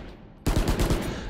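Rapid automatic gunfire from a weapon in the shooter game Valorant, a loud burst of about six close shots in quick succession that starts abruptly after a quiet moment.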